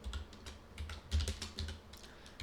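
Close, quiet typing on a computer keyboard during a coding session, a few bursts of quick key clicks with short pauses between them, heard alone.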